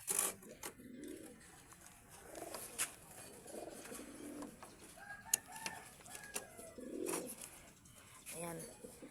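Several pigeons coo and call in quick, scattered bursts close by. Faint voices and other bird sounds mix in underneath.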